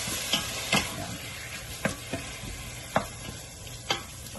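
Vegetables and a little meat sauté for pinakbet Ilokano under a low, steady sizzle, with a few distinct scraping taps of a spatula against the pan at irregular intervals.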